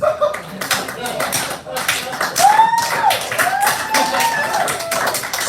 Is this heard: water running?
no